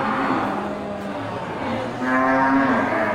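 Limousin beef cattle give low, drawn-out moos, one after another, close to the listener with no voices over them.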